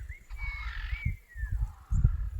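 A francolin calls in the background, one long, harsh, drawn-out note that wavers and falls, heard at moderate distance over low rumbling noise.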